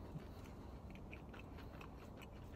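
Close, quiet chewing of a plain crunchy chicken sandwich, with soft repeated crunches and bites running throughout.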